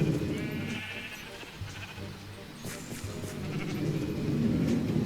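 Sheep bleat at a wool farm in a video game: a few wavering bleats rise over a steady low rumble, moderately loud and unaccompanied by speech.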